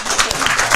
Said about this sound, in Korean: 자, 박수 한번 해줘라.